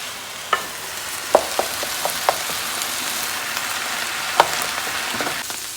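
Pieces of meat fry in a pan with sofrito while being broken up and stirred, giving a steady sizzle with scattered sharp crackles and a few clicks of the utensil against the pan.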